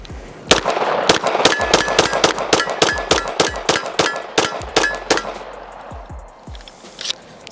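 A Glock G19 fed from a 3D-printed PLA magazine fires a quick string of about twenty sharp, loud shots at an even rapid pace, followed by a few scattered clinks as the firing stops.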